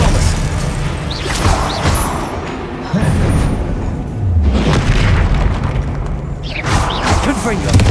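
Expelliarmus spell impacts in Hogwarts Legacy, heavy booming hits repeated in a busy combat flurry. The bursts are loud and close, with swells of crashing effects over continuous battle noise.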